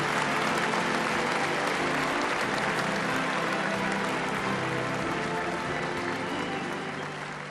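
A large audience at the Miss World 1976 beauty pageant applauds loudly and continuously, a thick wash of clapping that holds strong for several seconds before tapering a little at the close.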